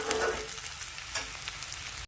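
Onions sizzle and fry in a pan while cooking chicken biryani, a steady moderate crackle with a couple of brief stirring scrapes, no talking.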